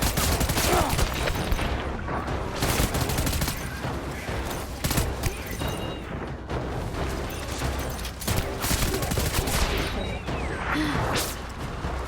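Dense, continuous gunfire fills the scene in Death Stranding, loud and close, with overlapping shots and mechanical clatter and no pauses; a voice is faintly present.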